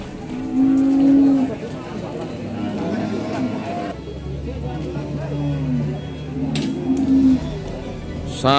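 Cattle, including calves on a truck, moo several times amid a busy crowd, with people talking throughout and a low rumble of vehicles in the background.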